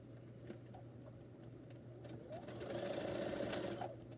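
A sewing machine runs continuously, stitching quilting fabric in a steady mechanical whir that grows slightly louder and busier toward the end, with a low constant hum underneath.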